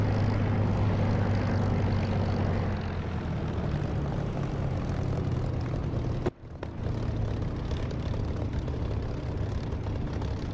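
A propeller aircraft engine in the DCS flight simulator game drones loudly and steadily, with a brief dip near the end before the constant roar resumes.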